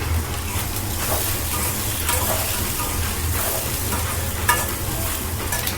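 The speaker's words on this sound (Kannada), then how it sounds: "ಇವಾಗ ನಾನು ಕೊಬ್ಬರಿ ಹಾಕೋತೇನೆ ನೋಡಿರಿ" Dry coconut stirring and sizzling in a hot pan for a chutney, a steady close scraping and frying crackle throughout with no talk.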